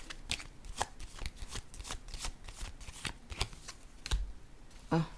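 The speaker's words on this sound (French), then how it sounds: "Je vais déposer une carte, encore une fois, sur le travail." Tarot cards are handled, shuffled and laid down in a quick series of crisp papery slaps and riffles, close and fairly loud, with no talking.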